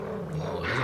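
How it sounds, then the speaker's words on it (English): A corgi growls in a Cowboy Bebop anime scene: a low, steady, menacing rumble that runs throughout with a slight rise near the end, heard alone without talk. "It's a corgi!"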